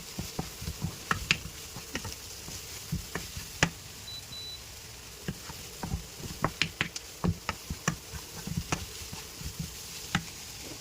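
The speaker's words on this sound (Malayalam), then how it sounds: "ഇളക്കി ഒന്ന് മിക്സ് ചെയ്യുന്നു." Chicken curry masala with coconut milk being stirred in a pan, a soft continuous sizzle under repeated close scraping and tapping of a spoon against the pan, irregular and moderately quiet.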